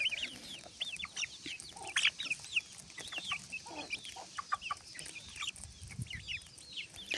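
Chicks and hens peck at corn in a yard, with repeated high chirps and clucks scattered throughout the clip and soft scratching underneath. The birds sound close and active, and no one speaks.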